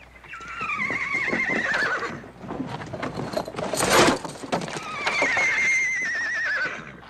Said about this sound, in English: Horse I traded Harry Dixon for.